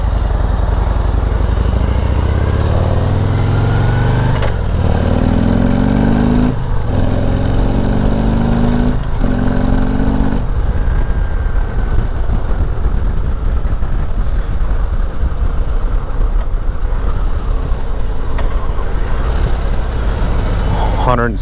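A 2018 Harley-Davidson CVO Road Glide with a 117 cubic inch engine rumbles steadily while riding at low revs, a deep continuous throb with wind noise and brief rising pitch sweeps.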